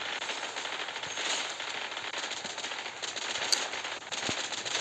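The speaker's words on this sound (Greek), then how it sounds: "Και πυροβολισμοί βασικά." Rapid automatic gunfire from Blitz Royale, a battle royale video game, rattles continuously, loud and dense, broken by a few sharper cracks.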